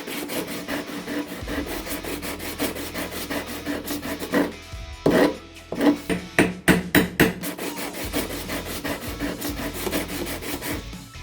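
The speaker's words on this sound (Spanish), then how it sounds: "Yo lo he hecho con una lija de grano grueso, alternando entre la esponja, el taco de lija y el papel de lija solo." Coarse sandpaper, sponge and sanding block worked by hand over the wooden hull of an Occre San Juan model ship make a steady scratchy rasp that breaks into distinct, rhythmic back-and-forth strokes close up.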